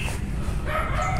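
Several dogs bark outdoors beside an airgun shooting range, a steady wash of background noise running through the short burst with no clearly separated yelps.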